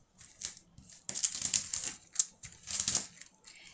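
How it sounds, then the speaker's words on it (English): Hardened sugar-free sprinkles are pushed off wax paper close up, giving crisp, dry crackling clicks in short bursts with brief pauses between them. "the step you want to do is just push all of this off of the wax paper."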